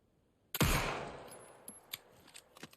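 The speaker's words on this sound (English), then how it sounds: "Gonna waste a bullet and shoot one." A single gunshot fired in the video game Alan Wake 2, a sharp loud crack with a decaying tail, followed by a few faint clicks and small knocks.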